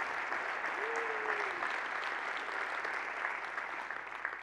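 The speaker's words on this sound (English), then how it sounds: "So big applause for all the organizations" Broad, steady applause from a large keynote audience at a Drupal conference in Amsterdam, a dense wash of many hands clapping that holds level for several seconds, with one brief voice rising over it.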